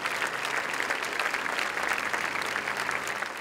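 A crowd applauds at the Rio de Janeiro city council as the bodies of councilwoman Marielle Franco and driver Anderson Gomes arrive; steady, dense clapping from many people fills the whole stretch.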